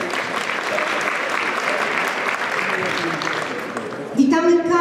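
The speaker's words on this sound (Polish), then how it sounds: "Ogromne brawa." Steady applause from a school audience welcoming guardians and students at a hairdressing competition, filling the room evenly for several seconds before a voice cuts in at the end.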